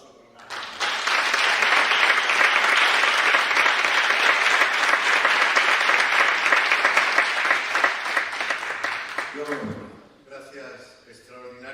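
An audience bursts into long, loud applause after a regional poetry and theatre performance, dense clapping holding for about nine seconds before tapering off, with a voice speaking briefly once it fades.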